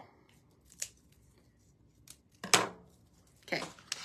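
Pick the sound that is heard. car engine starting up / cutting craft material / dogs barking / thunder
cutting craft material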